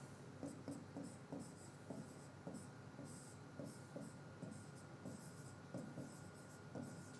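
Chalk or marker writing out an electrical formula during an engineering lecture on series compensation: a steady run of short scratchy strokes in an irregular rhythm, close and moderately quiet over faint room hum, with no talking.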